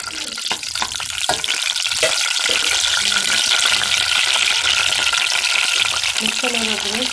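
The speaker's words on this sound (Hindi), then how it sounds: "तो अब हम इसमें लहसुन का तड़का लगाएंगे।" Garlic and ginger tadka sizzles loudly in hot oil for sarson ka saag in a village kitchen, a steady bright crackle with stirring clatter and a voice talking over it.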